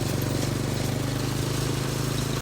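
A motorbike engine with a sidecar attached runs steadily on a trip into town in Pai, Thailand, with a loud, close, even chugging throb and no break or voices.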